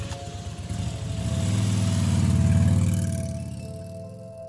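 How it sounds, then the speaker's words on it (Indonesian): An old motorcycle being started: a sputtering engine that catches and swells into a loud, rough idle, then eases off slightly, close by, with no talking. "Galuh mulai bergegas menyalakan motor tuanya"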